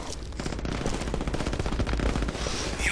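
A mounted machine gun nest in the shooter game Brink fires a dense, continuous stream of rapid shots, loud and close for the full few seconds.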